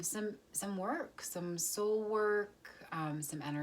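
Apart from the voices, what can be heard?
No distinct noise like a dog, phone or traffic.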